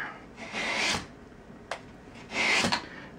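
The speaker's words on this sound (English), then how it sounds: "So now I'm going to come over the back side of these hammers with the medium grit." Steinway L piano hammers are filed on their back sides with medium-grit abrasive, giving two sustained raspy strokes separated by a short pause and a brief scrape, close and alone.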